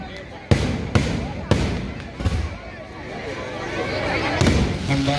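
Fireworks go off at a church festival in Koodankulam, several sharp loud bangs spaced about a second apart over a busy outdoor crowd hum, with a voice speaking over a loudspeaker.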